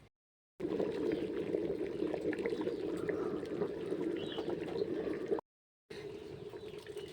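A pot of khichuri boils on the stove, a steady close bubbling and rushing simmer that runs continuously, broken by two short silent gaps, with no voices.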